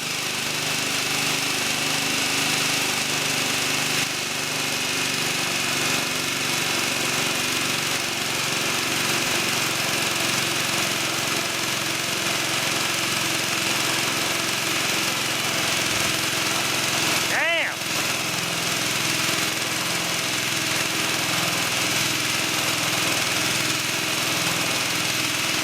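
A belt-driven compressor from a Ford Falcon, its belt too tight, runs continuously with a loud, rough mechanical drone and rattling pulse, steady throughout apart from a brief squeak near the end.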